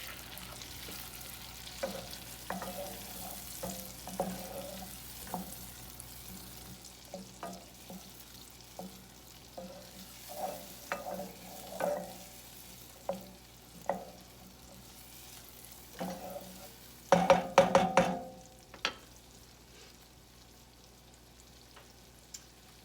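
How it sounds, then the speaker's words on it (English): Chopped onion cooking in butter in a pan makes a faint, soft sizzle under repeated spoon stirs and scrapes, with a louder clatter of strokes near the end and no talking. "Until you see that the onion is tender."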